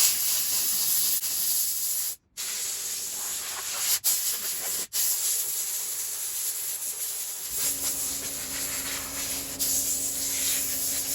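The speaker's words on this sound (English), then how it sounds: "Now just some compressed air to push whatever moisture there's left out." Compressed air blasts moisture out of a 1969 Seeburg LS3 Apollo jukebox, a loud close hiss broken by a few brief gaps and then continuing in steady bursts, with no voices.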